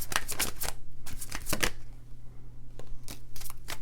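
Tarot cards being shuffled by hand, a series of crisp, close riffling bursts in quick clusters with short pauses between, loud and alone with no talking.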